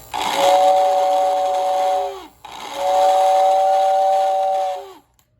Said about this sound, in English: Let's get that whistle.